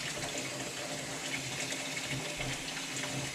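Water runs steadily from a kitchen tap while creasy greens are rinsed, a continuous splashing hiss at close range with no talking.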